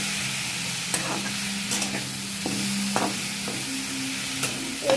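Chopped okra with a pinch of turmeric fries in a pan, a soft steady sizzle with occasional scraping clicks of a spoon stirring, close and quiet with no talking.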